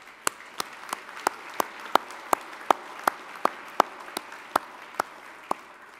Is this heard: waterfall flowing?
no